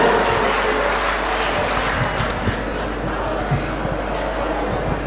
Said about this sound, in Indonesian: Ya, tepuk tangan Bapak Ibu